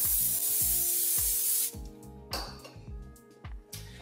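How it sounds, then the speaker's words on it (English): Avocado oil cooking spray hisses in a loud, steady burst for about a second and a half onto a hot pan during home cooking, followed by light clinks and rustles of kitchen work. "The spray I will be using is avocado oil."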